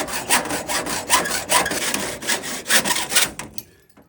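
A hand saw with a 24-tooth-per-inch blade cuts through electrical conduit in a garage, making about a dozen rhythmic rasping back-and-forth strokes, close and loud, tapering off as the cut finishes.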